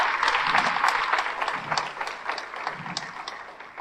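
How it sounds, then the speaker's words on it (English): Graduates at an MSW hooding ceremony applaud together, a steady wash of many hands clapping that holds for several seconds and gradually thins, with a few cheers mixed in. "Give yourselves a big round of applause."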